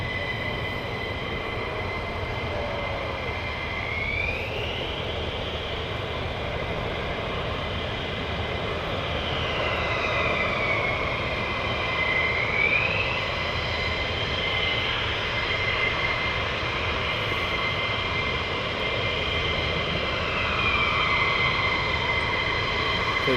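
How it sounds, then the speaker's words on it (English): Military jet aircraft taxiing out toward runway 24 at RAF Lakenheath, a steady loud engine roar and whine with rising and falling pitch sweeps, heard from nearby throughout without any talking. "And they're getting now taxiing out."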